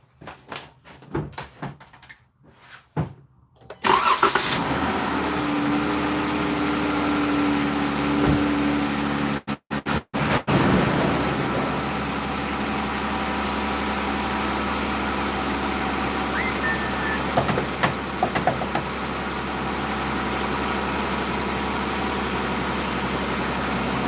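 A Dodge Durango engine idles steadily while it warms up, a constant low rumble lasting the whole stretch after a few clunks and knocks at the start, with no one talking.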